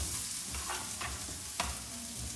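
Shallots stir-frying alone in a hot pan of oil, a steady close sizzle with a few scraping stirs of the utensil, no voices.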